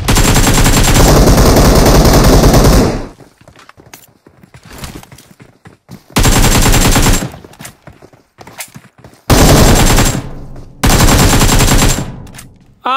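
AKM gunfire in the PUBG Mobile video game comes as loud, close automatic bursts, about four rapid strings of shots separated by short quieter gaps.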